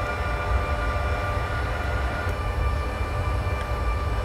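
A passing train in Train Simulator 2020 on the S-Bahn line from Leipzig to Bitterfeld, heard from a train cab: a steady, dense rumble and rolling rail roar holds throughout at even loudness, with faint tonal whine above.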